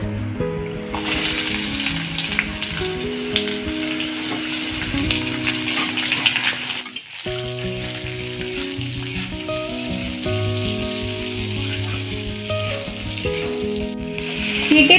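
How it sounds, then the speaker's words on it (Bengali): Curry leaves and onion sizzle loudly while frying in a pan, a steady dense crackle with stirring clatter, a brief dip midway, then continuing strong to the end with no talk. "কারি পাতা এবারে দিয়ে দেবো পেঁয়াজটা।"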